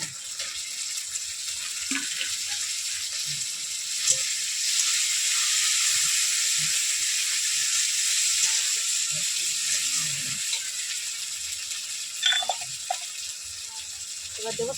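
Raw tomatoes sizzle and hiss in hot oil in a pan while cooking a pangas fish curry, a steady frying sound throughout with a few faint clicks and kitchen knocks.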